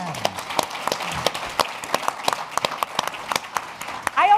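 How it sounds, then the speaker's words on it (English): Scattered claps from an in-person audience at a county leaders' advocacy gathering in Southeast Michigan, sparse and uneven rather than a full ovation, with a voice speaking briefly alongside. "A clap for us finally being able to get back together."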